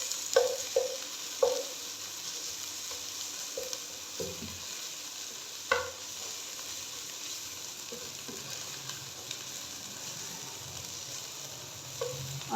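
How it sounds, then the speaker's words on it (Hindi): Crushed ginger and onions with whole cumin seeds frying in hot oil give a steady soft sizzle, broken by occasional sharp spatula scrapes and taps as they are stirred. "इसको हल्का सा फ्राई कर लूँगी प्याज के साथ"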